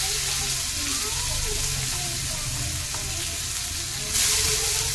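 Chopped onion fries in hot oil with a loud, continuous sizzle that grows a little brighter near the end, close and steady with no talk.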